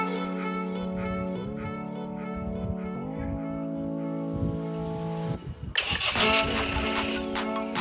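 A Mahindra Bolero pickup engine cranks and catches, settling into a steady diesel idle with a rising rev near the end, heard up close without talk.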